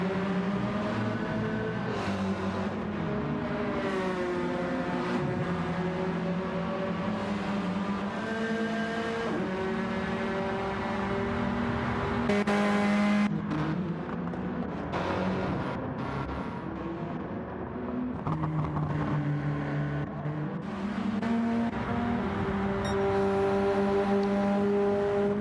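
Race cars in a sim racing endurance race scream past and rev through gear changes, their loud engine whines rising and falling over and over across a long stretch.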